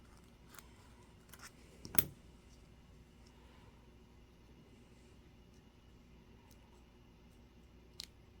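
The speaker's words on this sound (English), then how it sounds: "I'm just going to cut out a little piece of this" Scissors snip a small piece from a dried paint skin, a few faint crisp clicks and cuts with one sharper snip near the start, over a steady low background hum, with a last small click near the end.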